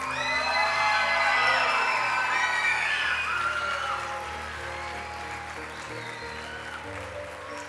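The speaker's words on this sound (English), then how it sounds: "A big round of applause for our graduates." An elementary school audience at a 5th grade graduation claps and cheers for the graduates, with dense applause, children's whoops and shouts that swell loudly then ease to steadier clapping.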